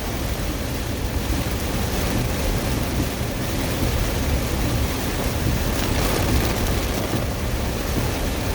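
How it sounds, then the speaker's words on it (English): A constant, loud wash of heavy rain hisses and drums throughout, thick and unbroken, with no voices. "Man, this is heavy, heavy rain."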